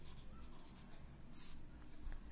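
Pen strokes scratch across paper as notes are handwritten in a classroom-style lesson, a close, quiet series of short scribbling bursts with no talk.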